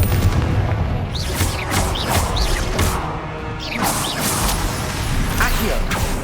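Spell blasts boom and crash in the video game Hogwarts Legacy as a Confringo blasting curse explodes, several sharp impacts with whooshes amid loud combat, voices calling out over the fight.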